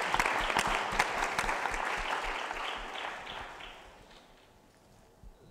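A summit audience breaks into dense, lively applause that starts strong and gradually fades out over several seconds, with no voices on top.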